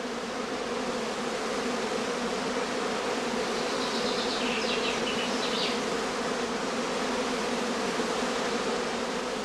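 Dense, steady buzzing of a honeybee swarm on heathland in northern Lower Saxony, Germany, during peak swarming season, filling the air, loud and continuous throughout with no voices.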